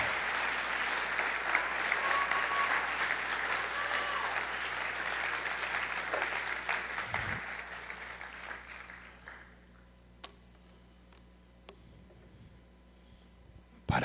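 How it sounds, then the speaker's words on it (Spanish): A church congregation at a general worship meeting applauds vigorously, a broad wash of many hands clapping that holds steady, then thins and fades out in the second half, leaving a quiet room with a few scattered claps. "Aplaude si va a aplaudir con ganas."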